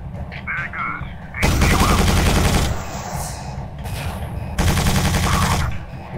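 Rapid bursts of drop turret gunfire in the Quake 4 video game, two long loud volleys separated by a quieter gap, with faint radio-style voices at the start.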